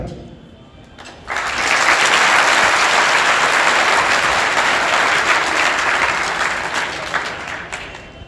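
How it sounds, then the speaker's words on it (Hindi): Students at a government higher secondary school in Maihar burst into sustained applause in honour of a guest, a dense crowd clapping that starts abruptly and holds steady before easing off at the end. "सम्मान में तालियां बजा दी"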